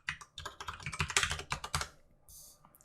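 Quick, uneven bursts of key clicks come from an unfamiliar computer keyboard during web development coding, close and fairly quiet, pausing briefly near the end.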